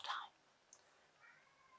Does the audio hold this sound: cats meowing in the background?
yes